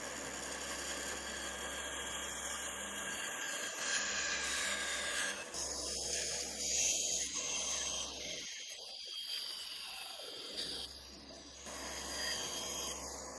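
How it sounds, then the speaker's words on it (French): A band saw hums steadily while cutting curved shapes in wood for a bench vise jaw, with rasping, grinding bursts as the blade works along the curves, pausing briefly before resuming. "J'enlève le plus gros de ces formes arrondies à la scie à ruban"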